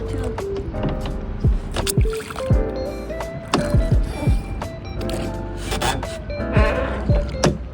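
A rowboat being paddled, with repeated wet splashes and knocks of the paddle against water and hull, irregular strokes close by, plus creaks and faint talking in the background.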